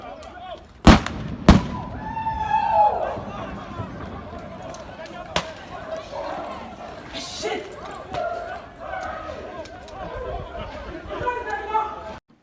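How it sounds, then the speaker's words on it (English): Police firing rubber bullets and tear gas at a crowd of protesters: two sharp loud bangs early on, followed by crowd noise, shouting and chatter that goes on, with another fainter pop partway through. "The police used rubber bullets and tear gas to disperse them."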